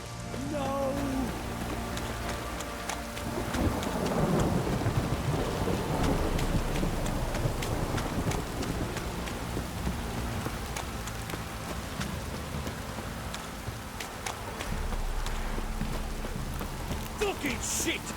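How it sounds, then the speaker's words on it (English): Heavy rain pours down in the video game The Witcher 3, a dense, constant hiss of downpour with low rumbling thunder rolling underneath, loud and close throughout. "This downpour's a bastard, it is."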